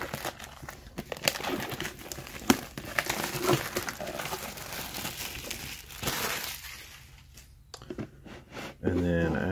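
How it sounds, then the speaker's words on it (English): Plastic wrap is pulled and crinkled off a Pokemon card box, with close crackling and rustling for several seconds before quieting, followed by a brief voice at the end. "We'll pull the plastic off."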